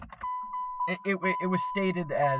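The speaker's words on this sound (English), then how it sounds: "sorry for my car beeping." A steady electronic tone, like a car's warning chime, holds under someone talking close by.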